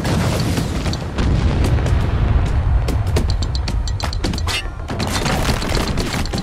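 Heavy mortar fire in the video game Spec Ops: The Line, a dense barrage of deep booming blasts and rumbling impacts rolling continuously, loud and close, with sharp crackling bursts layered over a constant low roar.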